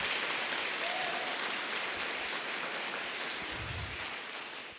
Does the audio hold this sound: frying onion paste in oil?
no